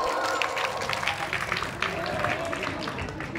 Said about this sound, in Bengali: এটা সবাই জোরে হাততালি হোক